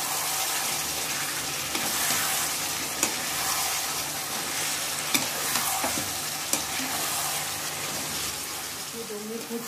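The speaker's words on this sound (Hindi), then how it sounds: "आप गरम जो हींग होती है उसका डालें, जस्ट 1 पिंच हींग, और इसको अच्छे से मिला लें। 2 मिनट तक फिर फ्राई करें इसको।" Dhaba-style masala chicken with a pinch of asafoetida frying in a pan, a dense close sizzle with spoon stirring and occasional sharp scrapes against the pan throughout.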